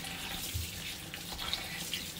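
Tap water runs steadily over raw chicken being washed clean in a home kitchen sink before making Hainanese chicken rice soup, a continuous close splashing hiss with no talk.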